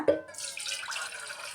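Homemade jeera juice sweetened with jaggery is poured into a large vessel: a short, close, steady rush of liquid that starts with a small splash and runs on evenly.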